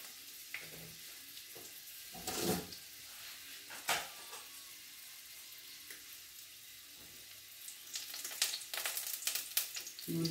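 Elephant foot yam frying in a pan gives a faint, continuous sizzle, with several sharp scraping stirs and clinks of the spatula scattered through, getting busier toward the end.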